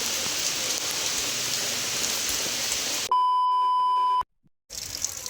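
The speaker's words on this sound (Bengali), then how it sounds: "বাইরে এখনও বৃষ্টি পড়ছে" Steady hiss of rain falling outside during a dark afternoon downpour, continuous and even, abruptly cut off by a long electronic beep and then a moment of silence before the rain returns faintly.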